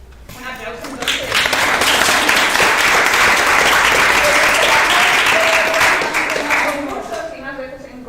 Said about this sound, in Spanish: Un aplauso entonces.